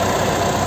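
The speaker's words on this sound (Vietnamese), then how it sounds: "đây là tiếng động cơ đang hoạt động rất chi là êm." A 2009 Mitsubishi Triton pickup's 2.5-litre diesel engine idles smoothly and steadily, a close, even, continuous hum with no voices over it.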